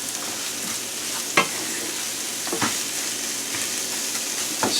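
Risotto sautéing in a pan on slow heat, a steady close sizzle with occasional scraping strokes from stirring, no talking.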